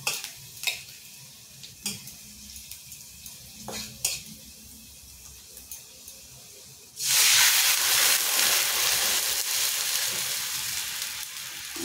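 Small jute leaves dropped into a hot pan for jute-leaf dal, first quiet scraping stirs, then a sudden loud hiss and steady sizzle that carries on to the end, close and without talk.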